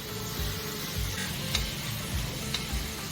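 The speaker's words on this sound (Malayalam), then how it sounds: "എല്ലാം കൂടി നല്ലപോലെ മൂപ്പിച്ചെടുക്കാം." Carrot and sliced onions frying in a pan for egg biryani, a dense steady sizzle with occasional light ticks and scrapes of stirring, close up with no talk.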